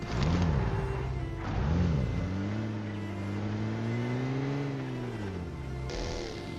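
A car engine in the PUBG video game revs and hums as the vehicle drives, its pitch swooping up and down in several surges before settling into a steady drone, fairly loud and alone.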